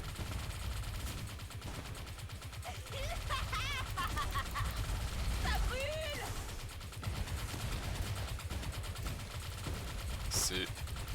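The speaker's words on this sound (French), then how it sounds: "Et du coup quand je tire j'ai le même bruit deux fois." Killing Floor 2 gunfire with a doubled-sound bug, rapid bursts of game shots and chaotic in-game effects with chirps and whooshes, continuous and dense, with someone speaking French over the action.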